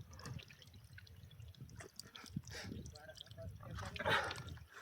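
Water drips and trickles from a rock spring on the mountainside trail of Salher Fort in Maharashtra. It is a soft, continuous splashing patter, close by, with faint voices in the background.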